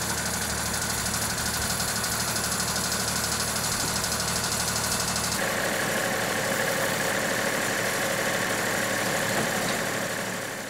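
A portable sawmill engine runs steadily and loudly throughout, a continuous close-up drone that shifts tone partway through, with no voices.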